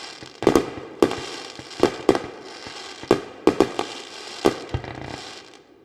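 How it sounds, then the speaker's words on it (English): A long fireworks sound effect delivers loud, sharp bangs and crackles at irregular intervals, about eight distinct bursts with brief decays between them and no voices. "That was like 30 seconds of fireworks."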